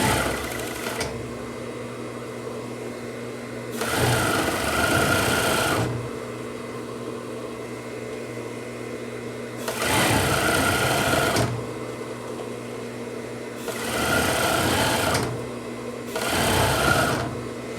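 Sewing machine stitching a seam on women's long-sleeve pajamas, running in four bursts of steady rapid whirring of roughly one to two seconds each, separated by quieter pauses with a faint hum, close and without speech.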